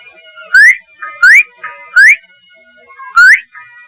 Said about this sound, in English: Whistle 3 times. Then watch. Like this.